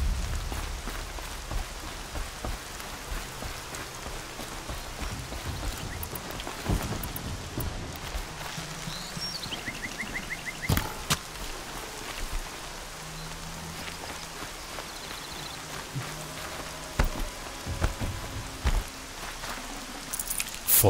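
Steady rain in the video game Horizon Zero Dawn patters on surfaces throughout, a dense continuous hiss with scattered drop impacts and a few faint low rumbles of thunder.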